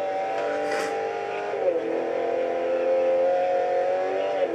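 Citroen C1 engine droning at high revs as its race-tyred wheels spin in Forza 4, a steady whining roar that holds, dips in pitch midway, then climbs again, with no talking.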